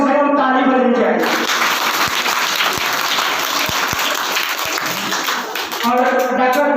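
Audience applause at a Bihar Diwas school programme in a village school hall, a sustained burst of many hands clapping loudly and close, with talk before and after.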